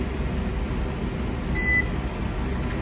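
A washing machine in a laundry room gives a single short, bright electronic beep as its start button is pressed, sitting over a steady background hum.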